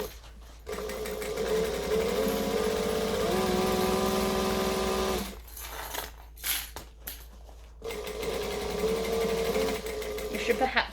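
A sewing machine stitches a fringed fabric bag, running in a loud steady whir for several seconds, then stopping and starting in short bursts with clicks, then running again. Someone talks over parts of it.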